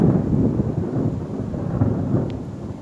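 Thunder from an approaching storm rolls on as a deep, continuous rumble, loud and close, with a faint hiss of rain underneath and no voices.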